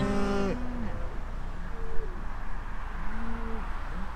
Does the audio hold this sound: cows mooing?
yes